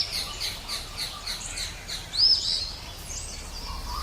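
Kingfisher calling with a run of sharp, high, repeated chirps and one louder squawk midway, fairly faint against a quiet outdoor background.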